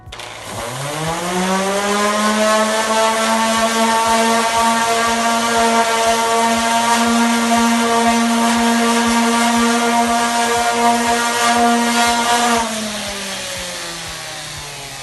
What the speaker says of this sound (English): I'm just gonna smooth out what we just sanded with a higher grit sandpaper